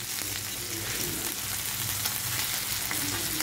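Fish fillets pan frying slowly, giving a continuous dense sizzle with faint crackles throughout, steady and close with no talking.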